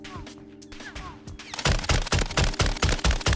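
Rapid automatic gunfire in Call of Duty: Warzone, a ranked solo match; loud, close bursts of repeated shots start about halfway through, after quieter game sounds and faint distant noise.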